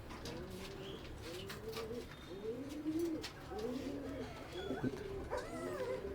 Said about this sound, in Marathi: पप्पानी मस्त अशी मोठ ढाबळ बांधली लय कबूतर पप्पाकडे